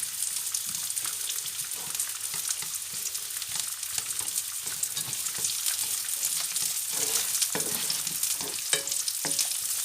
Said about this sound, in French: on va un peu légèrement faire revenir les oignons.